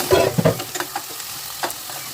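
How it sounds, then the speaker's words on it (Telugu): Chopped onions are stirred in a hot pan, with a continuous frying sizzle and a few soft scraping strokes, close and fairly loud, no voices. "కట్ చేసి ఉంచుకున్న ఉల్లిపాయలను అయితే మనం అందులో వేసుకోవాలి"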